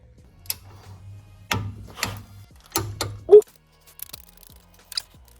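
A torque wrench tightens brake bolts on a Ford Fiesta ST, giving a few sharp metallic clicks and ratcheting ticks close by amid scattered tool handling, with no talk.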